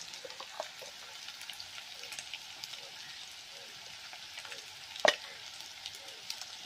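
Steady frying sizzle crackling in a pan as chicken curry is cooked with turmeric, with a sharp clatter of a utensil partway through; no talking.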